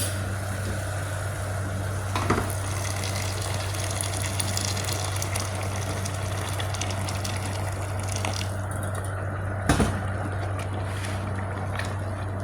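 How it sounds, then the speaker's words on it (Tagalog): Hot water poured into a pan of sautéed ground meat and tomatoes, a steady broad gushing pour running throughout beneath a constant low hum, with a few brief clanks along the way and no talking. "Tapos lagyan natin ng mainit na tubig."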